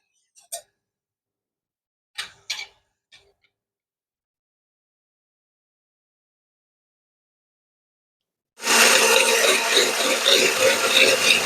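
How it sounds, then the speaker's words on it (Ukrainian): A blender whirs loudly and steadily as it beats three eggs for crepe batter, starting abruptly after a few faint clicks and knocks. "збиваємо це все блендером"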